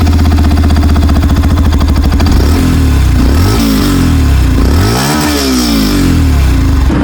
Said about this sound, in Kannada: ಈಗ ನೆಕ್ಸ್ಟ್ ಬರ್ರಿ ಇದ್ರ ಎಕ್ಸಾಸ್ಟ್ ನೋಟ್ ಕೇಳಿಸ್ತೀನಿ